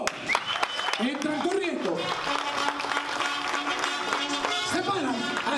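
Guests clapping during a party game at a baby shower, a steady wash of applause under a loud voice giving instructions over music.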